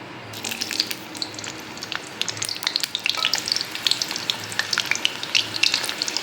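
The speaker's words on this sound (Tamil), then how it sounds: "இந்த மாங்காய் பீஸுங்களை பார்த்திங்கன்னா கொஞ்சம் கொஞ்சமாக போட்டு நம்ம அதில் வதக்கி எடுத்துட வேண்டியது தான்" Raw mango pieces frying in sesame oil for a fried mango pickle, crackling and popping steadily up close with sharp spatters throughout, no one speaking.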